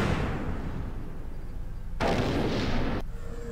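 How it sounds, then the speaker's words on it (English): Video game explosions roar as a continuous heavy rumble, with a louder, brighter burst of blasts for about a second partway through. "Explosions!"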